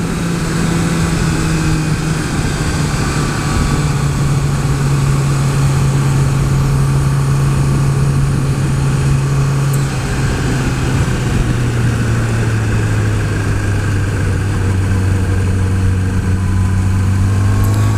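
A 2016 Kawasaki ZX-10R motorcycle with stock exhaust idles and hums steadily, a loud, close engine drone whose pitch drops slightly partway through, with no talk over it.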